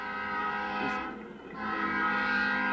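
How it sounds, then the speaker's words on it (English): A loud, sustained air horn at a 1998 high school football state semifinal blares with a brief dip partway through before sounding again, filling the whole stretch. "That's quite an air horn they have over on the other side of the field."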